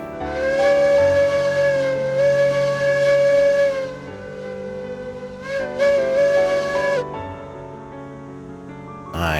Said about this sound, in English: Let's listen to that whistle.